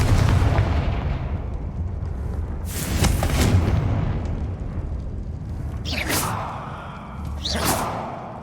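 Confringo spell blasts in Hogwarts Legacy: booming, whooshing impacts over a low rumbling bed, with a strong hit near the start and two sharper bursts later, loud and close.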